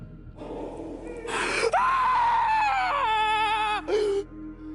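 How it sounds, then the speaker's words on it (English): A man gives a long, raw scream of terror in a dark building, rising sharply, then holding a strained wavering pitch before breaking off, followed by a short gasping cry. "A blood-curdling scream rips from his throat, raw, primal terror."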